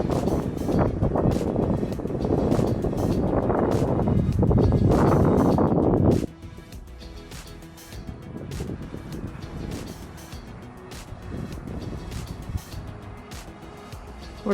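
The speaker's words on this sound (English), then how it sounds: "quite windy." Wind roars across an open microphone at a horse show, heavy and buffeting for the first several seconds, then drops to a lighter, gusty rumble.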